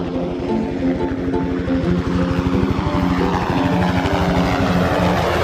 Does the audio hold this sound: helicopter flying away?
yes